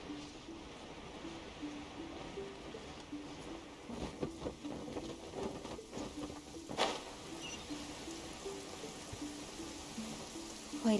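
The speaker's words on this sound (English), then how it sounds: "Quite a downpour. Nothing will get done until it clears." Heavy downpour in the video game Genshin Impact, a steady broadband hiss of rain pattering on surfaces that runs unbroken throughout, with a few brief louder splashes and impacts along the way.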